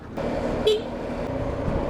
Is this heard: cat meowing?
no